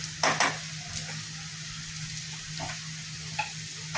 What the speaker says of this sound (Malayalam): ഇത് നല്ലോണം വഴറ്റാം.